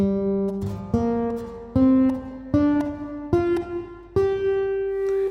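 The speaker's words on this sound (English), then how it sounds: "we're going to play through the pentatonic scale on this one string" A slide guitar plays a pentatonic scale on one string, seven single plucks stepping upward in pitch, each ringing briefly before the next.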